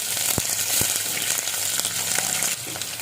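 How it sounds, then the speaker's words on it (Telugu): Cumin seeds, urad dal and onions fry in hot oil for a curry, a loud continuous sizzle close by with a few sharp crackles and pops breaking through the hiss. "జీలకర్ర, మినపప్పు, ఆనియన్స్ వేసుకుంటున్నాము"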